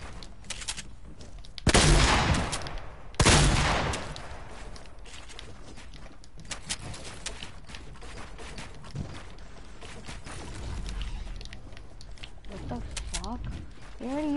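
Rifle shots in a video game, including bolt-action fire, with two heavy bursts early and lighter pops and mechanical clicks afterward, heard under a player talking.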